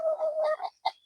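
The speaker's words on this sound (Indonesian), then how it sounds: "Coba bisa dilihat ngorok ya, ngorok." A sick chicken with respiratory disease gives a short, rattling, croaky snore-like breath, then a second brief grating sound, close and fairly loud with no talk over it.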